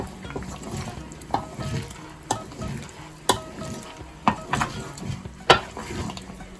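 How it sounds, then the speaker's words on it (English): Okra soup (Suppa Kanja, Gambian style) bubbling in a pot and being stirred, with irregular knocks and scrapes of a spoon against the pot over a low simmering sizzle, close by. "Our Suppa Kanja is cooking perfectly, so we're gonna give it a stir."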